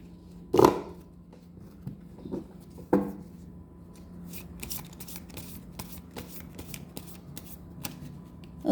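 Tarot cards being shuffled by hand, with crisp riffle bursts near the start and again around three seconds, then steady soft flicking and slapping of cards, close and fairly quiet with no talk.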